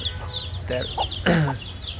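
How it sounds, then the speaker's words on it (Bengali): Twenty-three-day-old chickens on a farm give a few short, soft clucks and chirps close by, with a louder call near the end over a low background hum. "এটা হচ্ছে আরেকটা মুরগি আমার"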